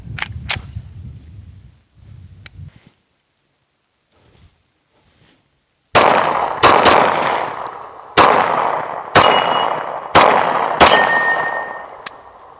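Sharp, loud shots from a Dan Wesson Fury Elite 10mm 1911 pistol fired outdoors at a steel plate, about eight rapid reports with short ringing decays, after a few quieter clicks and handling noises.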